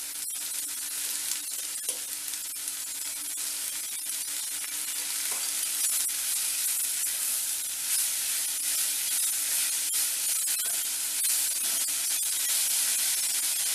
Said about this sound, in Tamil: குடமிளகாய் கொஞ்சம் வதங்கட்டும்.